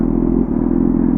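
A car engine with a knocking fault idles close by, a steady low rumble with a faint rhythmic clatter and a brief dip midway, heard alone without talk.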